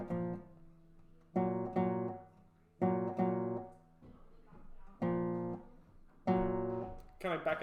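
A guitar plays measures 13–16 of a Midsummer Night's Dream Suite tutorial piece, with clear strummed chords in a back-and-forth pattern and pauses between them, close and alone.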